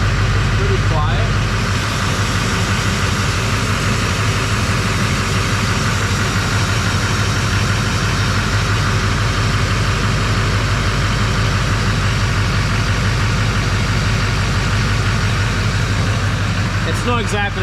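A diesel truck, fitted with a PPE lift pump, idles with a constant low rumble and a steady mid-range drone, close and loud throughout, with a brief clunk near the start and another near the end.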